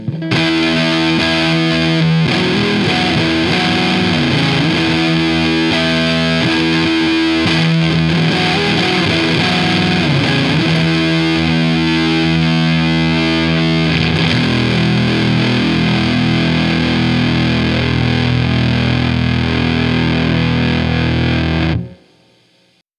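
Electric guitar played through a matched transistor fuzz pedal on its own, loud and heavily distorted with thick sustained chords and riffs running continuously for about twenty seconds before cutting off abruptly.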